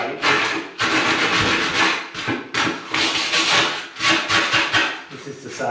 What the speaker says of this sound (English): Use a bit of sandpaper.